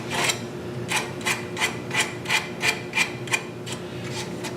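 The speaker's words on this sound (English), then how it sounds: "I can soften up these edges a lot with a little bit of 80 grit, depending on how much you want to sand." Wooden scoop edges being hand sanded with 80-grit sandpaper: about a dozen steady, rhythmic rasping strokes, close and fairly loud, with no talk.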